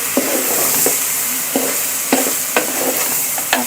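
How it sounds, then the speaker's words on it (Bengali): Fried rice is stirred in a pot with a utensil, sharp scraping knocks repeating every half second or so over a steady close sizzle. "এইভাবে একটু নেড়েচেড়ে নেবেন।"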